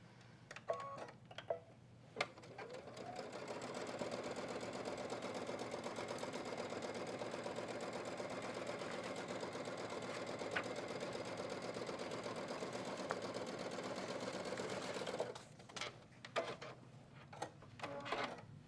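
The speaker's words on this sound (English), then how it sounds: "So then you're going to also sew the bottoms of the lining together." Sewing machine stitching the bottoms of a quilted lining, a steady fast mechanical whir running for about thirteen seconds, with short bursts and clicks before and after as it starts and stops.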